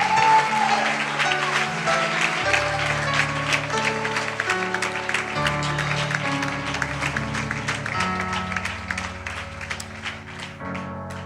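A church congregation claps along to music during a service, with rhythmic applause layered over sustained organ or keyboard tones and a steady low accompaniment.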